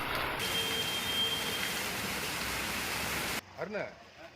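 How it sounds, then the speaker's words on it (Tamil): Moderate rain falls in a steady, loud, even hiss for several seconds, then cuts off abruptly before a voice begins speaking. "மிதமான மழை பெய்து வருகிறது"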